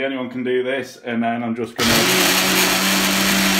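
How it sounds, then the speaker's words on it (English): A person talks, and then a blender starts up partway through, running steadily and loudly as it blends a green kale protein smoothie. "I've mixed all the ingredients, put them all together in the blender."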